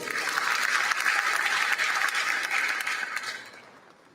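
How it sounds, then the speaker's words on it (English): An audience applauds newly qualified medical and dental practitioners at their induction ceremony, a dense sustained clapping that fades out at the end. "can we please give them a round of applause?"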